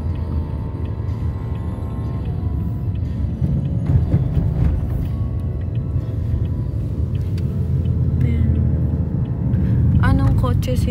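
A sedan on the road, heard from inside the cabin, gives a steady low engine and road rumble that runs throughout, with people talking over it.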